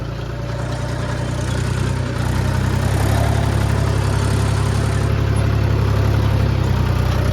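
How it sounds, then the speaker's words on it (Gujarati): A farm tractor's engine runs steadily and loudly up close, a constant low droning throb that grows slightly heavier partway through, with no talk over it. "તો ગાઈસ આપણે આવી ગયા ટ્રેક્ટર પર"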